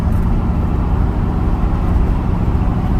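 A 1970 Ford F100 short bed with a 460 big block V8 idles steadily, heard from inside the cab as a loud, continuous low rumble with no talking over it.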